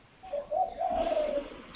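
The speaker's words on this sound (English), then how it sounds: "I think it sounds like doves cooing back there, but they're really loud doves." Doves coo behind a call, a low rolling hoot lasting about a second, fairly loud and clear, with no talk over it.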